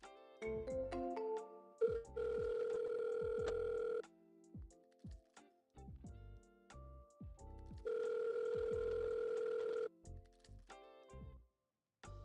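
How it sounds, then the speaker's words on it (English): A phone call is forwarded to an automatic voicemail system, heard as a string of short electronic beeps and tones with two long, steady ring tones, each lasting about two seconds, on the line. "Been forwarded to an automatic voice message system."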